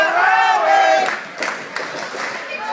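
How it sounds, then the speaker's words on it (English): Crowd noise at a Rowan versus Wagner college hockey game, a loud wash of cheering and shouting that swells and stays busy, with a commentator talking over it near the start. "As the crowd is getting fired up."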